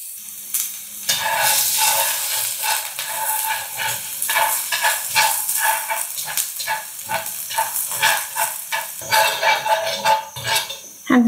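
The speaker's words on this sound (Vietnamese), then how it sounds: "Dầu nóng lên thì mình sẽ cho hành với tỏi vừa băm nhuyễn vào." Steady sizzling and crackling of minced onion and garlic frying in hot oil, with occasional stirring scrapes throughout, close and fairly loud.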